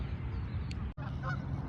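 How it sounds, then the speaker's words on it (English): Geese honking at a man-made park pond, a single short honk against a steady outdoor background, fairly faint and distant. "We got some geese that have migrated to the area."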